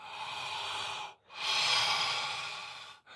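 Deep, forceful breaths during a breathwork exercise: one long rushing exhale, a short pause, then another long, loud airy breath, close and alone with no talking.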